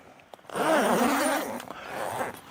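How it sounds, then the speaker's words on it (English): A large YKK zipper on a Quick Pitch Aero Gen 2 rooftop tent is pulled in one long, close rasp lasting about a second, then a shorter second pull follows. "we have super size YKK zips"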